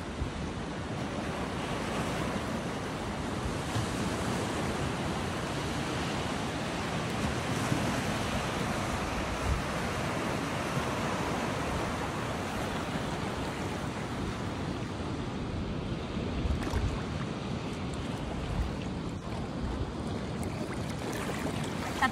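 Atlantic sea waves at Guarujá beach wash and break continuously, a dense roar of surf mixed with wind buffeting the microphone, steady and fairly close for over twenty seconds with no voices.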